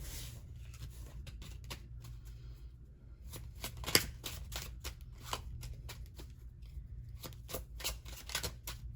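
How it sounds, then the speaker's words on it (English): Tarot cards are shuffled in quick, soft riffling bursts close by, a steady papery flutter with a sharper snap partway through and no talking. "let's shuffle up these tarot cards a little bit here."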